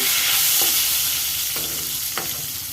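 Dried fish heads fry in a pan with a loud, dense, continuous sizzle up close, broken by a few sharp scraping stirs.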